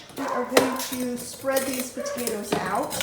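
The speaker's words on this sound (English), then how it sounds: "Sorry for the dog barking." A dog barks in short repeated bursts from inside a home while a woman sorts potatoes in the garage, her voice running over the barking at moderate loudness.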